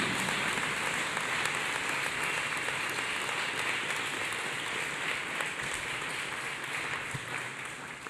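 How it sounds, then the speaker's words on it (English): A church congregation claps hands together, a steady, diffuse patter of many hands sounding slightly distant and fairly quiet, continuing evenly throughout. "Let's clap hands for Jesus."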